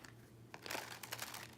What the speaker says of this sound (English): so let's shuffle one more time for Leo